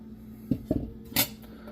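A spoon stirring chili crisp in a pot gives a few quiet metallic clinks and scrapes, three separate knocks over a low steady hum.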